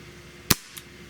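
A single sharp crack from a CO2 air pistol, a Smith & Wesson 586 or 686 revolver replica, fired close by, followed by a faint softer click a moment later.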